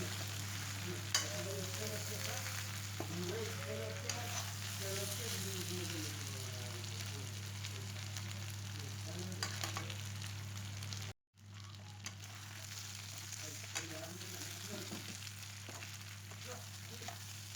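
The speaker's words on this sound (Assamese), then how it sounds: "এতিয়া এইখিনি আকৌ এবাৰ ভালদৰে লৰাই দিছোঁ" Local chicken curry frying in a pan, a continuous close sizzle with spatula stirring scrapes throughout, briefly cutting out near the end before resuming; no talk.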